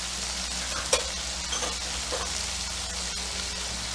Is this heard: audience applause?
no